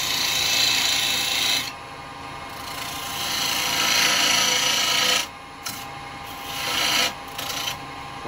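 A roughing gouge cuts sycamore wood spinning on a lathe, giving a steady close rasping, scraping hiss in long passes that stop briefly between cuts, over the motor's constant whine.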